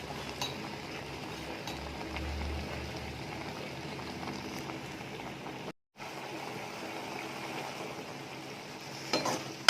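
Mushrooms with pepper powder simmering and being stirred in a pan: a soft, steady bubbling and low sizzle, occasional faint utensil clinks, a brief gap near the middle, and a louder scrape at the end.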